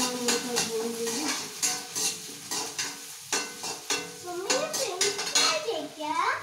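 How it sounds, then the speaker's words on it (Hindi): Food frying in a pan on a home kitchen stove while a spoon stirs and scrapes the metal, a steady sizzle under repeated clinks, with a voice and other talk faintly in the background. "इसको ब्राउन होने तक भून लूँगी"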